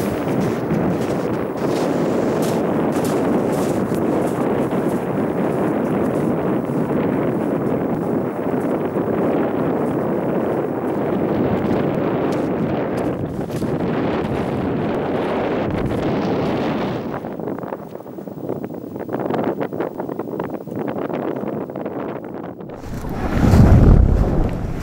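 Strong wind buffeting the microphone high on a grassy, scoured mountain ridge on Stob Binnein in the Scottish Highlands, a loud continuous roar that eases briefly near the end before a fresh gust, with no talking.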